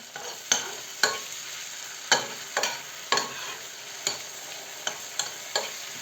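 Steady sizzling of carrots frying in a pan, broken by repeated sharp scraping clicks as they are stirred with a utensil, close and fairly loud, no voices.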